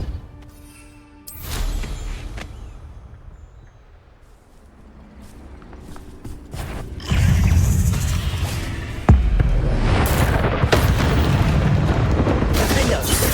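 A Depulso spell is cast in Hogwarts Legacy, with deep booming impacts and rumbling effects that swell into loud, layered blasts alongside game music.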